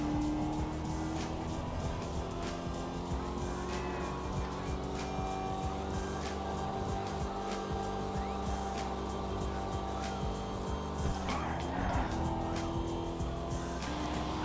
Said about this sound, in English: I'm going to shut up here so you can really hear that motor cook